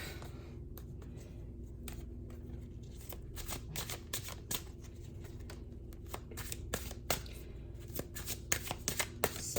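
Tarot cards being shuffled and pulled during a pick-a-card reading, giving a quiet run of crisp riffling flicks and taps that grows busier and a little louder toward the end, with no talk over it.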